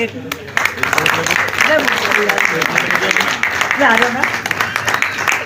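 An audience at a large Hindu assembly claps loudly for honored community leaders, sustained applause running under an amplified voice speaking through it.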